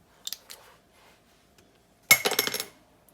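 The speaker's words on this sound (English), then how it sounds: "And then what we're going to do is actually cut out the corner." Scissors snip into the corner of a paper notepad cover in a quiet room, with two quick light snips, then a pause and a louder crisp cutting run of several fast strokes.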